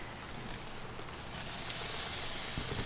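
A thick steak sears on a hot grill, giving a steady broadband hiss and sizzle that grows a little louder partway through, with no talking.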